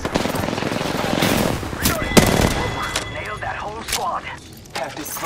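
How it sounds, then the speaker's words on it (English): Rapid bursts of automatic gunfire in the video game Apex Legends, loud sharp cracks and rattling volleys trading back and forth, with a character's voice talking over the shooting. "Taking fire."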